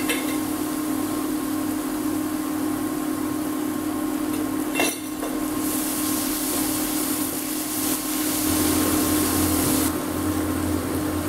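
Chilli powder sautéing in oil for sweet and spicy chicken, a continuous low sizzle with intermittent scraping and clinking as a utensil stirs the pan, one sharper knock midway.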